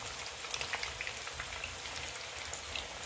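Fish pieces fry in hot oil, giving a faint, steady crackle and sizzle with scattered pops and no talk.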